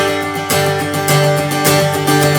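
Guitar chords strummed with a loose, moving wrist driven by the forearm, producing smoother, flowing strokes; a continuous, close, fairly loud rhythmic pattern with no talking.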